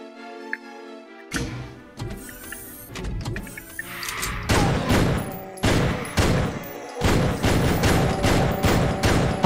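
Pistol shots in the Doom video game, a rapid string of sharp, loud cracks with echoing tails, coming in uneven bursts after a brief tonal lead-in, close and dominant.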